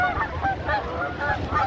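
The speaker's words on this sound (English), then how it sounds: "Here comes the birds." Geese honking as they fly overhead during a full blood moon eclipse outdoors, a flock calling in overlapping rhythmic honks, fairly near and loud, continuous.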